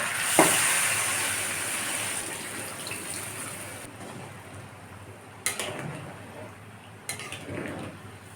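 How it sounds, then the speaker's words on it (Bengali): Hot water poured into a pan of sautéed meat for a gourd and meat curry, a loud hissing burst of steam and bubbling that gradually fades, followed by a couple of clinking pan knocks. "নেব কষানো হয়ে গেছে জল দিয়ে দেবো গরম জল"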